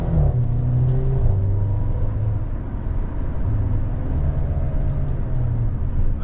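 Interior engine note of a 2021 Mercedes GLB250 SUV under acceleration, a steady rumble that rises, dips with a quick gear change, then climbs again, heard alone without talk.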